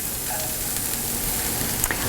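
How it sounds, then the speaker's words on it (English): Shallots sizzle in hot ghee in a pan, a steady broadband crackle throughout with a few sharper pops near the end, close and fairly loud with no talking. "You want to hear a little bit of a sizzle when they hit the pan so you know that they're cooking correctly"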